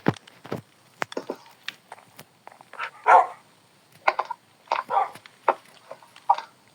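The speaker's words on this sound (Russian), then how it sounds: "А це не моя собака." A dog in Minecraft barks repeatedly in short, sharp bursts with brief gaps, fairly close and clear, with a few soft thumps between barks.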